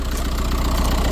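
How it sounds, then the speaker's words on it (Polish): A 2018 Audi Q5 Quattro petrol engine idles close by, with a steady rumbling drone and an even, rapid clatter running through it. "I ten motorek klekoce przyjemnie."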